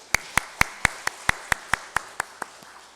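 Rhythmic clapping in a church service: about a dozen sharp, evenly spaced claps in quick steady succession, moderately close and fading slightly toward the end, with no talking over them.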